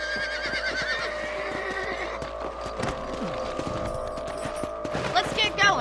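Horse in the Red Dead Redemption video game whinnying over a steady clip-clop of hooves, with a sharp gunshot-like crack midway and a louder whinny near the end, backed by game music.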